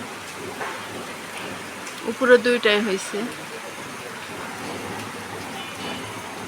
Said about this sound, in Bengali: কিন্তু এমন বৃষ্টি হইলে কিভাবে যাব